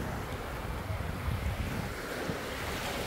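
Sea waves wash onto a beach in a continuous roar, heavily mixed with strong wind buffeting the microphone, loud and close with no separate voices.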